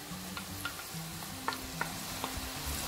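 Tomatoes going into a frying chana curry bring a steady low sizzle with intermittent stirring clicks and scrapes, while a faint tonal hum persists underneath.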